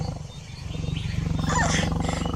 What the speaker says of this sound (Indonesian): Awas, Mas. Di belakangmu ada harimau.